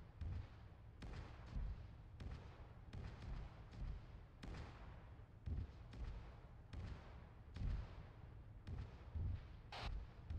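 Repeated heavy booms of artillery fire in a military video game, thudding out at irregular intervals across the whole stretch, fairly loud with low rumbling tails and no talk over them.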